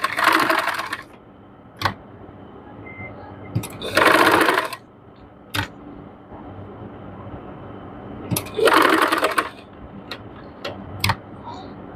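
Sewing machine stitching a neck design into fabric, running in two or three short bursts of a few seconds each, separated by quieter gaps with light clicks and handling sounds.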